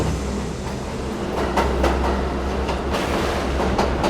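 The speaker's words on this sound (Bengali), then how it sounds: "কিছুক্ষণ পর ট্রেন আবার চলতে শুরু করলো" A train rolls steadily along the tracks with a constant low rumble and a few sharp rhythmic clacks of wheels over rail joints.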